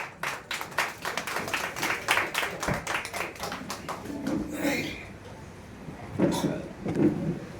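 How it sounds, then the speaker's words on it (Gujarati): Audience applause for a man being honoured at a Gujarati community gathering, a dense stretch of many hands clapping that swells and thins, with a few louder bursts near the end. "જોરદાર તાળી થવી જોઈએ વિક્રમ માટે."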